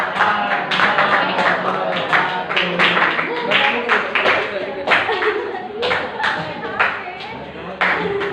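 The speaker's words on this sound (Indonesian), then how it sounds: "tepuk tangan dulu buat kelompok 3" A classroom of students claps for a group's sociology presentation, a dense run of hand claps lasting several seconds, close and fairly loud, with scattered voices mixed in.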